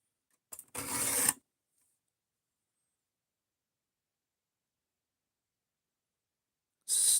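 Cheap Amazon knife hand sharpened on a stone, one short scraping stroke near the start and another at the very end, separated by near silence.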